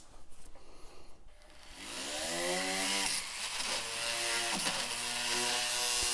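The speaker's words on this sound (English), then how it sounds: "I'm putting downward pressure on the polishing wheel just to give it a little bit extra help" A polishing wheel spins up and grinds against a hardened steel burnisher at medium polish grit under downward pressure, a steady loud whining rasp that rises after a brief quieter start and holds to the end.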